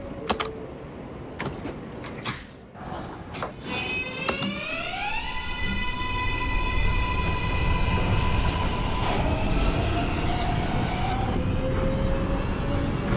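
A simulated NYC Subway R143 train on the Z line toward Bay Ridge in the OpenBVE simulator pulls away, opening with a few clicks and clunks, then a rising electric motor whine over a steady, loud rumble of wheels.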